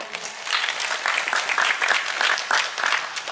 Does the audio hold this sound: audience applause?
yes